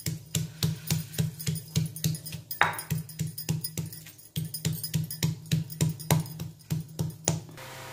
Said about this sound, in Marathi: आता ह्याच्यामध्ये तुरीचे सोले टाकून वाटून घेऊया आपण।